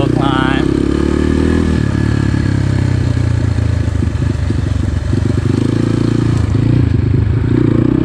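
A 2021.5 GPX FSE 250 E dirt bike climbs a small hill in second gear, its engine droning loud and close with a steady mid-pitched roar, rough and clattery as it works up the slope.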